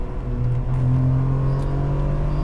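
A 2003 Ferrari 575M with a V12 engine drives along, its smooth, steady engine hum rising slightly in pitch from inside the car, with no voices.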